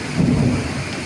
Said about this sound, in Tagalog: Kung narinig nyo master yung kulog